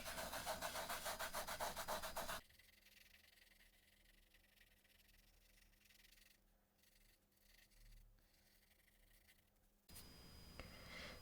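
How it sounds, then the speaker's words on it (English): Fingers rub ultra-fine, powdery glitter into adhesive on a paper card heart frame, with paper laid over the top, giving a soft, continuous close scratchy rubbing that is louder at the start and end. "you're just going to rub the glitter into the adhesive"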